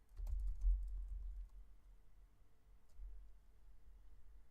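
A computer keyboard types code in soft, quick clicks that cluster in the first second or so, then thin out into faint, sparse taps in a quiet room.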